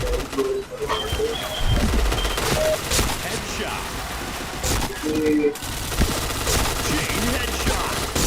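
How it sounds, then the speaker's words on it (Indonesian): Rapid bursts of gunfire from a video game, loud and near, with repeated volleys and scattered shots layered over a busy game soundscape and some faint bird-like cooing. "Sakit kali tembakan orang itu."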